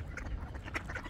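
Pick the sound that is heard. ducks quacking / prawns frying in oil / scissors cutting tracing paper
ducks quacking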